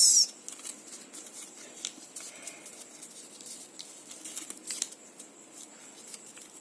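Paper being creased and folded into an origami jumping frog, with soft crisp rustles and brief crackles at close range, a sharper crinkle near the start and another burst midway.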